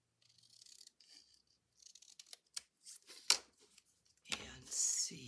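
Scissors cutting paper while finishing a handmade craft journal: a few quiet, separate snips and rustles with pauses between them, close and fairly faint, with some soft paper handling.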